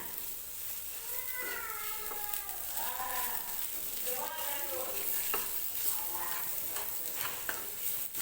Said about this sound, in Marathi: आणि सगळा मसाला व्यवस्थित आपल्याला मिक्स करून घ्यायचा आहे